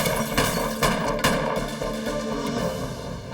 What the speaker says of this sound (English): The witness hears the gunshots.